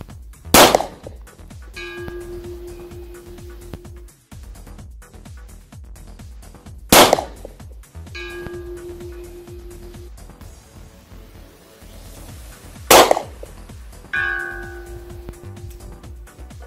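Three Glock pistol shots crack sharply at even intervals, each followed about a second later by the faint metallic ring of a steel gong struck 200 metres downrange, outdoors with no talking.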